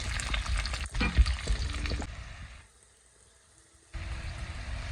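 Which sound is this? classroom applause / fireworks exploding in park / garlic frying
garlic frying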